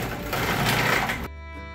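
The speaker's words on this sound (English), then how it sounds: "we are going to be using the slicer blade on our food processor today" A food processor with a slicer blade cuts carrots, a close loud whirring motor with dense choppy slicing noise for just over a second, then the motor hums on alone.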